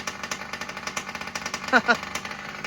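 An RCMAX Supreme 55cc gas engine on a Primal RC dragster runs with a steady, rapid rattling beat at moderate distance, rising briefly in two short revs near the end.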